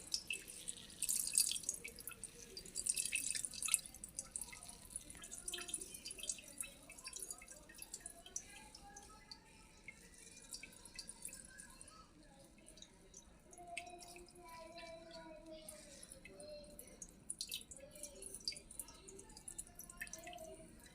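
Water dripping and trickling out of strained buttermilk curds left over from making ghee, a quiet close patter of irregular drops that thins out over time, with faint voices in the background.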